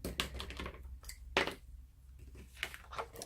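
Small snips cut around a paper card image in short crisp snaps and slicing strokes, close and quiet, with faint handling rustle between cuts.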